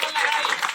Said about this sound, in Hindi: ताली की गड़गड़ाहट से इनका स्वागत करने का काम करेंगे